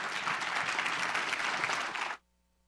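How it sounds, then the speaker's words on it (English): Audience applause at an entrepreneurship event, a full steady wash of clapping that stops abruptly into near silence. "Ladies and gentlemen, big round of applause for Victor Wang."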